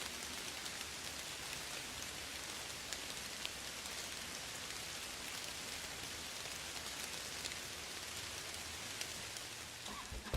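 Steady rain falling in the Kathy Rain video game, a soft even hiss of dense droplets lasting throughout at low level, with no voices.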